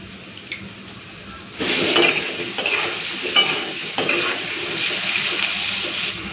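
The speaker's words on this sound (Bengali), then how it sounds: "এই আলুগুলোকে ভেজে নেব" Sliced potatoes with a pinch of salt fry in hot oil for a potato paneer curry. After a quiet start the sizzle swells suddenly and stays loud and steady, broken by scraping stirs and clinks of the pan, with no talk.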